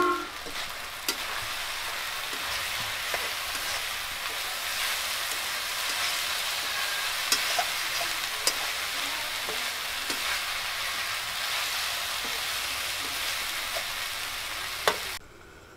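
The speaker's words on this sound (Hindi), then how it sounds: "सब्जी को एक बार हम चला देते हैं।" Sunn hemp flower vegetable sizzling steadily in a pan as it is stirred, a dense continuous frying hiss with occasional scraping clicks from the spoon, close and fairly loud throughout.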